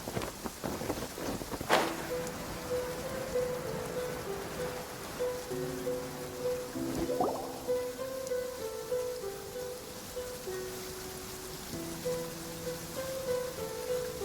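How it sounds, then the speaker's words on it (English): Heavy rain in the video game Genshin Impact, a steady wash of downpour beneath sustained game music, with a sharp crack near the start. "With rain this heavy, not only are the stars clouded, so too is my scry glass hazy."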